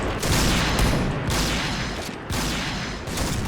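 Rapid gunfire bursts from the shooter game Point Blank fire loudly and continuously, dense volleys broken by short gaps, up close with no talk over them.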